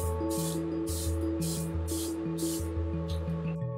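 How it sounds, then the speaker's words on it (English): A soothing hypoallergenic water spray misted onto a face, several short hissing bursts in a steady rhythm, close and soft over a faint constant hum. "I'm gonna spray this on my face."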